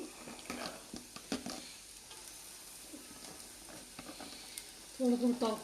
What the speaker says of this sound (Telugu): ఉడకబెట్టుకుని తొక్క తీసుకున్న జీడిపప్పు అండి ఇది, పచ్చిది. వేసి ఒకసారి కలుపుకుంటున్నానండి.